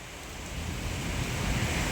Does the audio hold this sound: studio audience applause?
no